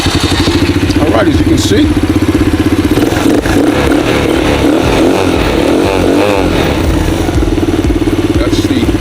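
A Blazer 9 125cc Chinese ATV engine runs loud and close with a throaty, steady putter and some revving. Someone talks over it briefly.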